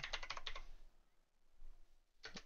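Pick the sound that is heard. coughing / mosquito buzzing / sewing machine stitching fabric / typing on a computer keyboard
typing on a computer keyboard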